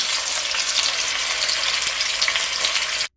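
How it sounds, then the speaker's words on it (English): Oxtail sears in a hot pan for a Jamaican oxtail dish, giving a loud, steady, close sizzle that runs unbroken for about three seconds and then cuts off abruptly. "So I'm gonna sear my oxtail for at least 4 minutes on each side."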